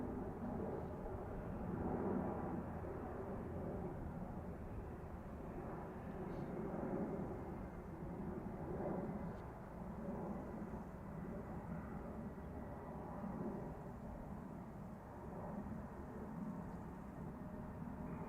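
An airplane at Zurich Airport prepares for takeoff, heard as a steady distant jet rumble that swells and eases over many seconds, with faint voices in the background.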